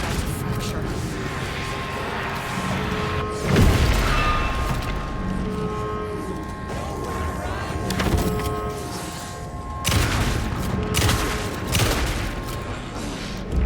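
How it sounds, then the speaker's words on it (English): Gunfire in Alan Wake II comes in several heavy, booming bursts spaced a few seconds apart over a rumbling, dark ambient bed, with speech faintly present. "Shooting right above her."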